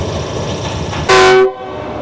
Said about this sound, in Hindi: ज़ोरदार हॉर्न मेरे कानों में।